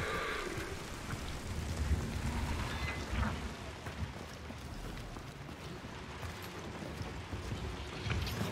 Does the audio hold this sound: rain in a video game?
yes